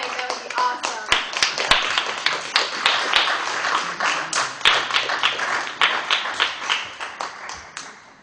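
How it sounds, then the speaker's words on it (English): An audience claps to welcome a poet walking up to the microphone at a poetry event for social change, with a dense, steady round of hand claps that stays loud and sustained throughout. "if we can try and clap our poets all the way to the mic"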